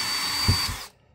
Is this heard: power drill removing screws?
yes